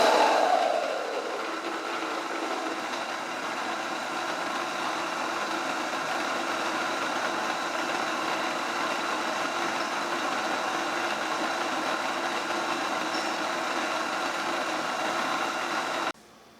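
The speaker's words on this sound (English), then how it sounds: "it's going to get a little loud in here, but we're going to turn on my mock mill." A Mockmill grain mill grinds Pima Club wheat into flour on its finest setting, giving a steady, even mechanical drone that runs unbroken for the whole stretch.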